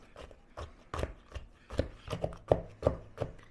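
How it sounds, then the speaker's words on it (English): Pecans being crushed in a bowl while a pie-crust mixture is stirred, a series of irregular sharp cracks and crunches, close and fairly loud, spaced out across a few seconds with quieter scraping between. "I'm just crushing some of these pecans up when I'm giving this a stir."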